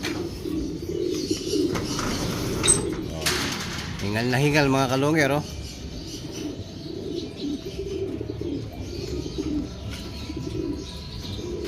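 Pigeons coo in low, throaty warbles amid a steady chorus of birds during a racing-pigeon event in Tagudin, Ilocos, with someone talking nearby over the cooing.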